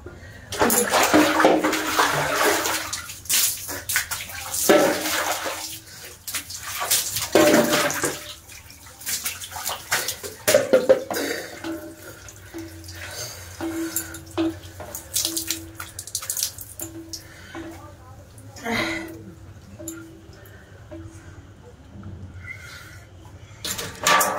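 Water runs from a tap and is splashed and poured in bursts during a cold-weather bath in a bathroom, with irregular gushes and drips close by and faint background noise.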